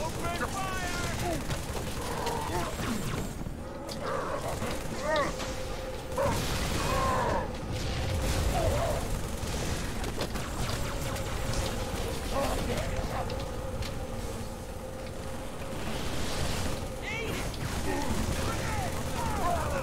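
Halo 3 firefight with rapid bursts of gunfire and clattering mechanical weapon noise, loud and continuous throughout, mixed under a talking voice.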